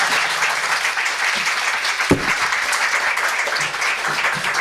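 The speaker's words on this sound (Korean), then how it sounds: "다시 한번 감사의 박수를 드리겠습니다." A church congregation gives a steady round of hand-clapping after a praise service. The applause is moderately loud and evenly sustained throughout, with one brief louder thump partway through.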